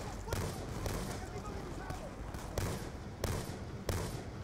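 Gunfire in the video game Call of Duty: Black Ops II: a handful of sharp, separate shots ring out over a dense, noisy battle backdrop, with a faint voice underneath.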